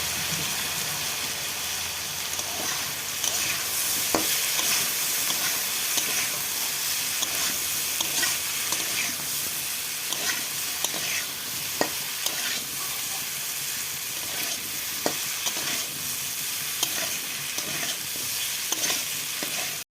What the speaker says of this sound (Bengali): দিয়ে ডাঁটা আলুটা আমি ভেজে নিচ্ছি।